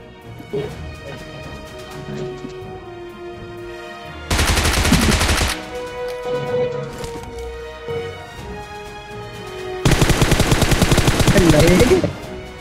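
Gunfire in the mobile battle-royale game BGMI (PUBG Mobile) comes in two loud, rapid automatic bursts, each lasting a second or two, with scattered quieter game sounds and voices in between.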